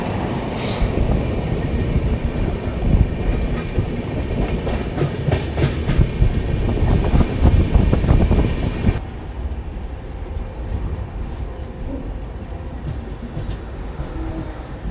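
Bhubaneswar Tejas Rajdhani Express passing at night on the outskirts of Bhubaneswar, heard from aboard another train as a loud, steady rumble of wheels and rail clatter that cuts off abruptly, leaving a quieter running hum.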